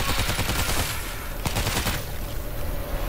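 Rapid gunfire in the zombie shooter World War Z, dense bursts of automatic shots with sharp cracks in quick succession, loud and continuous over a busy game-audio background.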